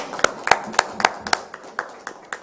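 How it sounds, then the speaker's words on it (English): A small group claps at a steel pan media briefing, about ten distinct, well-spaced hand claps in a loose rhythm, close and clear against a quiet background. "we could give them another round of applause"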